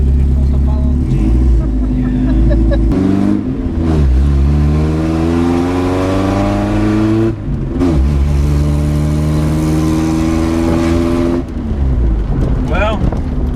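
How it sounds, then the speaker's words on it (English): A Jeep on 31-inch Milestar Patagonia tires pulls out into traffic, its engine revving loudly and climbing in pitch through several gear changes, with brief dips between shifts. "You hear the motor, but you know what I don't hear?"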